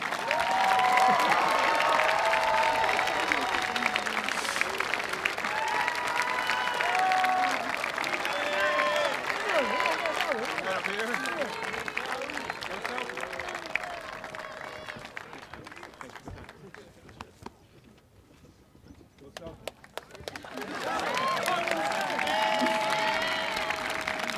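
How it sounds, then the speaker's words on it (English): Graduation audience at a class of 2022 senior ceremony applauding and cheering steadily, loud crowd clapping that fades to a lull near the end before swelling again, with voices mixed in. "Keep cheering, it's a long walk."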